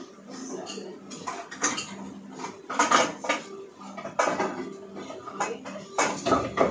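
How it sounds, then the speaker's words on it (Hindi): A non-stick kadhai is pulled out in a home kitchen, bringing a run of clattering metal knocks and scrapes of pots and utensils, close and fairly quiet, with no talking. "मैं कढ़ाई निकाल लेती हूँ एक"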